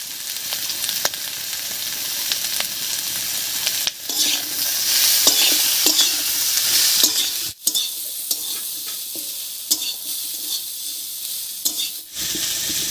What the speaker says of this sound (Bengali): লবণ হলুদ দিয়ে একটু নাড়িয়ে নিয়েছি